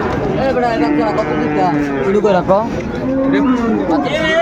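Sahiwal bulls low loudly and continuously at a busy cattle market in Dinajpur, deep drawn-out moos that overlap one another, with a crowd chattering close by.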